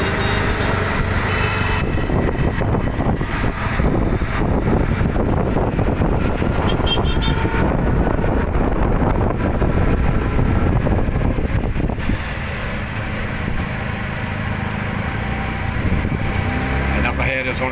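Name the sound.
riding in a PassApp ride-hailing vehicle through town traffic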